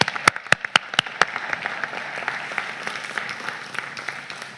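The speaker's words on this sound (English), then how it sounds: "Can we please take a moment to give them all a round of applause?" Audience applause at a college new-student convocation, opening with several sharp, loud individual claps before settling into steady, moderately loud clapping from a large crowd across the whole clip.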